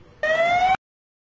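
Fire engine siren in Istanbul during a storm, a steady loud wailing tone that cuts in abruptly for about half a second, then stops dead, with no voices.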